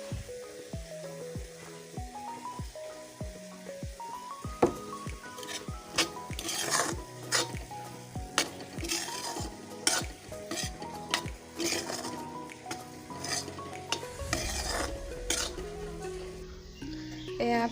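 Cucumber sabji sizzles in a pan as sesame seeds go in, with a steady fry under frequent clinks and scrapes of a spoon stirring against the metal and a sharper hiss late on.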